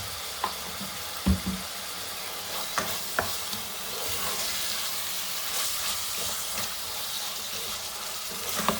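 Chicken spaghetti masala sautéing in a pan with turmeric: a steady sizzle and fry hiss throughout, with occasional spoon scrapes and knocks against the pan, close by.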